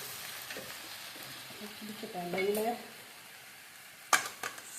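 Soaked tapioca with turmeric powder fries in a pan, a soft steady sizzle with a few scrapes of a stirring spoon and a sharp clink of utensil against the pan near the end.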